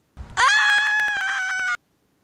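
A woman lets out one long, loud, high-pitched scream while walking by a lake, held steady for over a second before cutting off abruptly.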